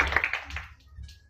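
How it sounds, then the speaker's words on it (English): Audience applause at a Bic corporate event held at KidZania, a short burst of clapping that fades quickly into quieter room tone, with no talk over it. "round of applause for the association"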